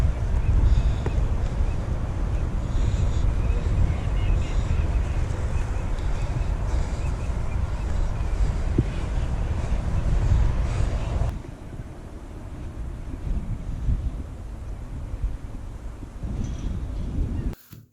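Wind blows across an open marsh, buffeting the microphone with a loud, steady rumbling roar that drops to a softer, calmer rush partway through before cutting off.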